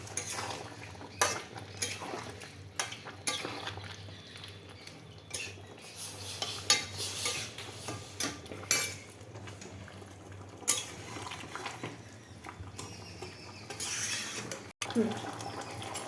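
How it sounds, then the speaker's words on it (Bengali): A utensil stirs chicken curry in a pot: light metal scrapes and clinks sound against the pot in irregular bursts, with soft sizzling underneath and a quiet voice now and then. "এবার একটা নাড়ব নেড়ে দেবো"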